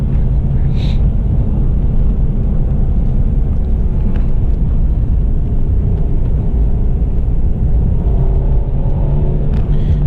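A Mercedes-Benz C300 engine hums low and steady after a downshift to third gear, a muffled rumble under road and cabin noise.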